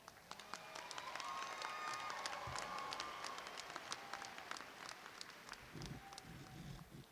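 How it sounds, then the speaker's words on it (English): At a university spring commencement, a large crowd applauds the graduates; the clapping is distant and soft, swelling and then thinning, with scattered sharper claps and thumps. "So let's give our graduates a round of applause."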